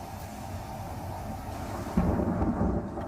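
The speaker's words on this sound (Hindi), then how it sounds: "आसमान में कड़कड़ाती बिजली बादलों के गरजने का आगाज कर रही है।" Deep thunder rumbles through a rainstorm over flooded Dubai, swelling into a louder, nearer roll in the second half over a steady hiss of rain.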